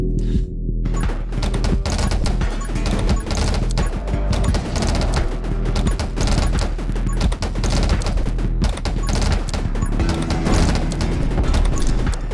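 Dense, continuous barrage of shotgun blasts and impacts in the video game 20 Minutes Till Dawn, loud and relentless throughout with game music and effects layered underneath.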